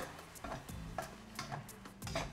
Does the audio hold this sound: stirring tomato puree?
yes